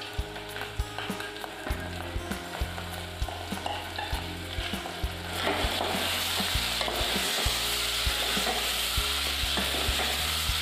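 Boti tripe frying in turmeric masala, a spatula stirring with rhythmic scrapes, then a loud steady sizzle swelling as the tripe hits the hot pan, with no talking.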